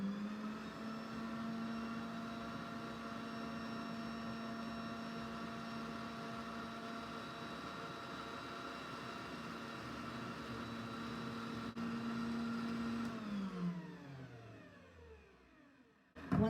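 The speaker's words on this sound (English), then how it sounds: "I have 1 cup of butter already in my mixer, pre-softened, and I'm just going to let that mix up a little by itself on its own" An electric stand mixer creams softened butter for butter cookies with a steady motor whine and faint beater churn, close and continuous, then slows and winds down to a stop near the end.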